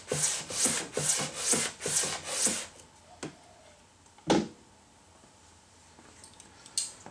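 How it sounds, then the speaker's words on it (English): Rhythmic back-and-forth sanding on a wooden guitar body, about eight even strokes close by, followed by quieter pauses with a couple of sharp knocks. "It took about 10 minutes of sanding, so it wasn't terribly hard to do."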